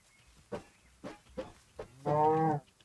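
Cows in a hardcore survival video game: a few short soft thumps, then one loud, drawn-out moo close by, with no talking.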